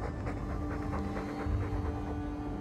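A dog's noisy, rhythmic panting in the video game Dragon Age 2, continuous and fairly close throughout, mixed with a dense layer of game ambience and music.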